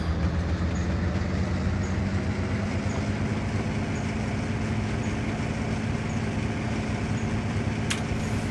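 A train rolls along rails in Train Simulator 2018 on a Western route, giving a continuous low rumble with steady mechanical hum and a faint click near the end, no voices present.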